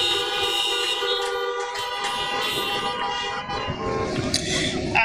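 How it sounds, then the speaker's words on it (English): Car horns honk at an outdoor high school graduation ceremony, several horns blaring together in a sustained overlapping chorus of tones, loud and continuous throughout. "you can honk your horns to everybody"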